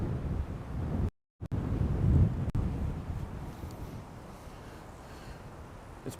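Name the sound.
wind blowing on a hillside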